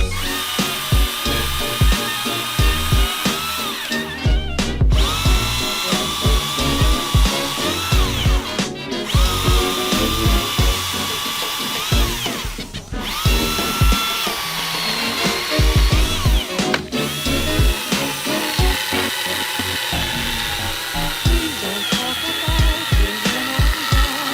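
A cordless telescopic pole saw runs continuously and loudly for the whole stretch, its motor whining with brief dips and revving surges, chewing through wood.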